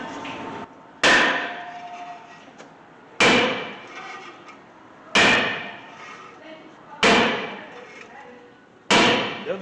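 A hammer strikes the brake rotor on a 2013 Hyundai Santa Fe five times at roughly two-second intervals, each loud metallic bang ringing and fading in a workshop setting.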